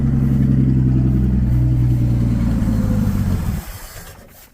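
Old truck engine with a carburetor fault that will not idle, running loud and close with a deep, rough drone, then fading and sputtering down toward the end as it struggles to keep running.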